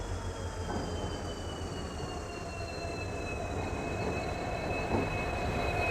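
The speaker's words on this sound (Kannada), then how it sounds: "ರೈಲ್ವೆ ಬರ್ತಾ ಇದೆ" A train rumbles past close by near Talguppa, Karnataka, wheels squealing in long high tones over a continuous rolling roar; no voices.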